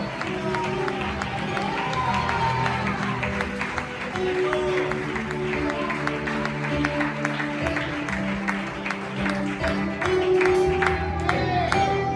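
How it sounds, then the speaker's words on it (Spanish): A church congregation claps and cheers in a loud, sustained burst that fills the space steadily, with music and voices carrying along underneath. "Ese aplauso para Él, por favor."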